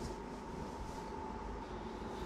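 A train in the Mario Party Star Rush minigame Bowser's Hit or Missile Mania, heard as a quiet, steady rolling rumble with a faint sustained tone running through it.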